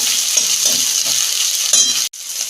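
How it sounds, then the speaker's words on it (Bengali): Tomato cooks with ginger-garlic in hot oil, a loud close sizzle with repeated spatula strokes scraping the pan before a brief cutoff near the end. "এই যে টমেটো এটা ভালো করে কষাবো"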